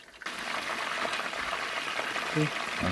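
Steady, dense crackling and sizzling of chicken deep-frying in hot oil in a cauldron, continuous throughout, with a few brief background sounds near the end.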